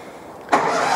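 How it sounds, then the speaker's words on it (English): One engine of a twin-engine hot and cold water trailer sewer jetter cranks and catches suddenly after a quiet moment, then keeps running at a loud, steady roar close by. "We're gonna go ahead and start the first engine again."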